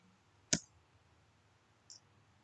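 A computer click to add an interface: one sharp, close click, then a second, fainter click over quiet room tone.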